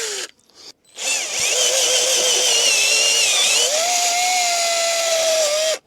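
An electric drill with a 10mm bit whines steadily for several seconds as it bores through metal, its pitch shifting slightly under load, loud and close after a brief start.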